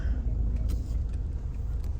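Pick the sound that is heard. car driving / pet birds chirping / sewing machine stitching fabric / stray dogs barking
car driving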